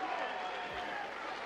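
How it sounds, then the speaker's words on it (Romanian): Crowd applause fills a sports hall during a fight gala, a dense, steady wash of clapping sustained at even loudness throughout, with a faint low thump partway through. "aș vrea să începem cu un rând de aplauze pentru cei doi luptători de mai devreme"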